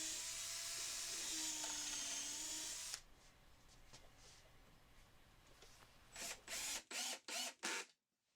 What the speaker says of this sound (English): I then drill some pilot holes and attach the upper portion of the rack to the mounting bracket